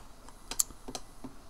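A handful of separate computer keyboard keystrokes pressed while setting up a keyboard sensor in UPBGE, the Blender-based game engine, sounding close, light and clicky with short irregular gaps, alone and without any talk.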